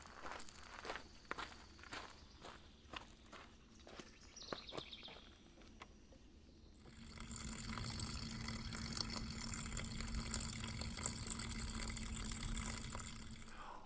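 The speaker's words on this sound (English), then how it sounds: "I'm going to go ahead and open up all of my low point drain valves" Water drains from the fresh water tank of a NuCamp 400 RV through opened low point drain valves, a steady rushing flow starting midway after footsteps and clicks.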